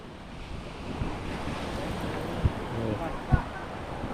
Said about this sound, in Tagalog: Umigay na sa lakas ng hangin